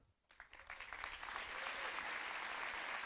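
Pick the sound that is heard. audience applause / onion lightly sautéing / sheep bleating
audience applause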